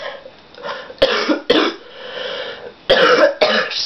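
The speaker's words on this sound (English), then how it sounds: "got a bad cough" Harsh coughing from one person close by, about four sharp bursts in two pairs with short pauses between them, each loud and rough.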